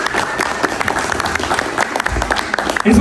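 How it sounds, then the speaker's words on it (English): Audience applause at a Bellator Paris MMA press conference at Accor Arena, loud, dense clapping from a sizeable crowd sustained throughout, with a few louder individual claps and some low rumble near the end. "You can applaud."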